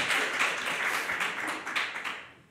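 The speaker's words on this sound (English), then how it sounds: "Is that a clap?" Audience clapping in a hall at a book talk, a dense patter of many hands that holds steady for about two seconds and then thins out and fades.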